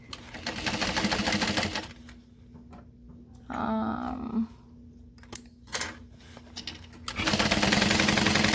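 A sewing machine bastes a zipper seam in two loud steady runs of stitching at the start and end, with quieter handling and fabric sounds in between.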